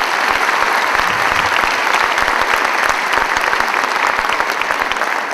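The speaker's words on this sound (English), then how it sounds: "Let's have a round of applause for all our helpers in the back." A school winter concert audience gives a loud, sustained round of applause, dense and even from start to finish with a faint crowd murmur beneath.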